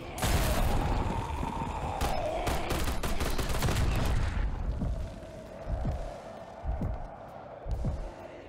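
Dual pistols fire in Call of Duty: Black Ops 6, a game. A rapid dense volley comes first, then scattered single shots and mechanical clatter as the firing thins out, with no voices.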